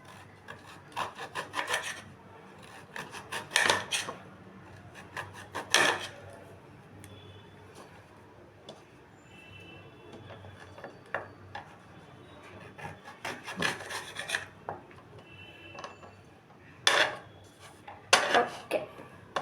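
A knife slices a mango into pieces on a board in a home kitchen, giving scattered bursts of close scraping and rasping cuts separated by quieter pauses.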